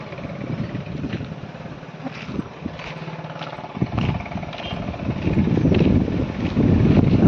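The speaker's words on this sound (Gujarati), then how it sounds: "પવન ઉપડ્યો છે ખૂબ" Strong storm wind gusts across an open village farm, a steady loud roar with rumbling buffeting on the microphone that swells louder toward the end, with no one speaking.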